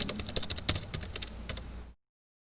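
Fingers type on a computer keyboard while a description is entered into a spreadsheet, giving a quick irregular run of close, crisp key clicks that stops abruptly after about two seconds.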